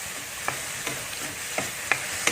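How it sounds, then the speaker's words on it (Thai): Spatula scraping and stirring chicken with bamboo shoots and holy basil in a hot pan, a low steady sizzle broken by several short, sharp scrapes at irregular intervals, close by and with no talking. "ผัดให้เข้ากันครับ"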